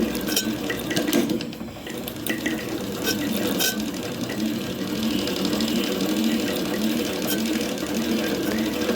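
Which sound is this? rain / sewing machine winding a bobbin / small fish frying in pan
sewing machine winding a bobbin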